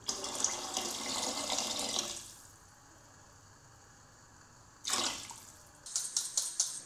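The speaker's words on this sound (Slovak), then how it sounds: "Voda, voda, voda. To je málo vody." Water pours from a tap into a pot for oyster mushroom tripe-style soup in a kitchen, a loud rushing stream that stops, then resumes in a short second burst and a few splashes.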